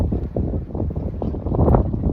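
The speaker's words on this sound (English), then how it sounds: "Okay, there's a bit of wind," A gust of wind at the docks in Salem buffets the microphone with a steady, loud low rumble that swells and flutters for a couple of seconds.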